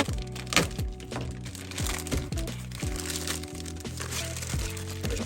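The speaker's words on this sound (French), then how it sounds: "va ouvrir donc les premiers tapis de jeu d'Etheron" Packaging crinkles and crackles as an Etheron TCG play mat is unwrapped, with sharp plastic crunches and thunks over a steady tonal background hum, close by.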